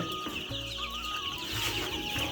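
Clucking from a young Brahma chicken chick on a poultry farm, a steady close run of soft calls with no talk over it.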